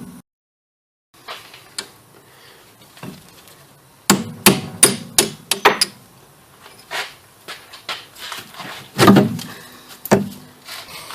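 Splined bolts on a Chevrolet Malibu (1998–2003) rear strut mount being knocked out with a hammer: a run of sharp metallic strikes in irregular bursts, loud and close, with quieter clanks and pauses between, no talking.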